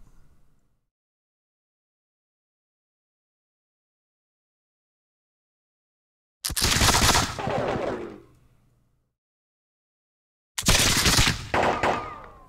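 Musket volleys in the Revolutionary War video game Campaign 1776 at Cowpens: two loud crackling bursts of massed gunfire separated by silence, each rolling and tailing off.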